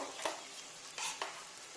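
Brief stirring in a pan: a few scraping strokes of a spoon through a ground paste over a soft, steady frying sizzle, while making chickpea soup.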